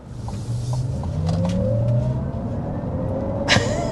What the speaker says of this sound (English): So let's go ahead and dive into it with a first acceleration